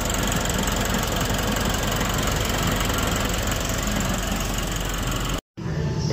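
A Nissan NV350 van engine idles steadily and loudly after its EGR valve and turbo have been cleaned. The hum is continuous and even, then cuts out briefly near the end.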